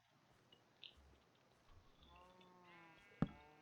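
A Minecraft sheep gives a faint bleat near the end of a quiet stretch, followed by a sharp click, with a few soft thuds earlier.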